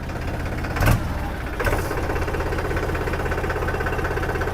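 A tractor engine starts and idles with a steady, knocking diesel rumble, preceded by a couple of brief clunks before it settles into an even throb.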